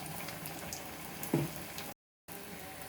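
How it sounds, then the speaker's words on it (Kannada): Batter-dipped ridge gourd slices frying in hot oil on a medium-low flame, a steady close hiss and bubbling sizzle throughout, briefly cut off, with no talk. "ಹಿಟ್ಟಿಗೆ ಒಂದೊಂದೇ ಹೀರೆಕಾಯಿಯನ್ನು ಈ ಥರ ಮುಳುಗಿಸ್ಬಿಟ್ಟು ನಾವು ಎಣ್ಣೆಯಲ್ಲಿ ಬಿಡಬೇಕು"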